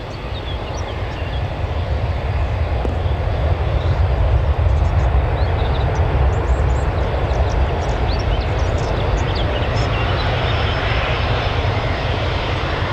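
A British Airways airliner at Newcastle Airport roars loudly and steadily for the whole stretch, a broad continuous jet-engine rush with heavy low rumble and no voices.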